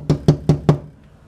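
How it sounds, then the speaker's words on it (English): Four quick, evenly spaced knocks on a window, close and crisp, followed by brief quiet. "I will knock on the window"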